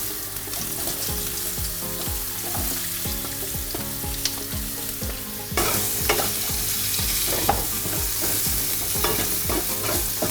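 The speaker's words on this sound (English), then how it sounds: "So now we're going to put in the broccoli and the onion." Broccoli and onion fry in a little oil for a healthy sweet and sour chicken, sizzling steadily up close while a utensil stirs with repeated scraping strokes. The sizzle grows louder partway through.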